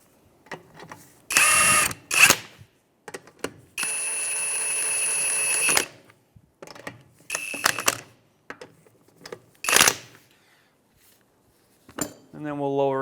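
A power tool snugs the rear wheel lug nuts on a 2003-2011 Honda Element in a crisscross pattern, with several whirring bursts separated by pauses and clinks of metal, the longest burst lasting about two seconds.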